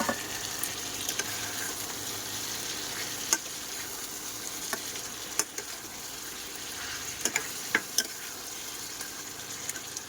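Potatoes go into a frying mutton curry, setting off a soft, steady sizzle punctuated by several sharp ticks and clinks of a spatula against the pan, heard up close and quietly with no talking.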